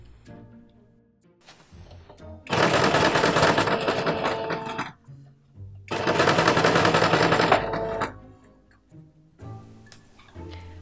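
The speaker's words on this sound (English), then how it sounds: "I just needed to pin it to my corset and sew it with a zigzag stitch" Two long bursts of a sewing machine running a zigzag stitch on a corset, loud rapid mechanical chattering separated by a quieter pause, with softer handling clicks before and after and no talk.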